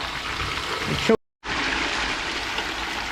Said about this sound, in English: Oh wow, that is a lot of water flow.